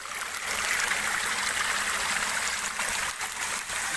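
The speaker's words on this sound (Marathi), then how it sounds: "डायरेक्ट चला तुम्हाला दाखवतो धबधबा" A jungle waterfall rushes in a steady, dense roar of falling water, heard close and unbroken with no voices.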